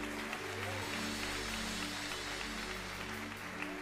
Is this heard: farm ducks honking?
no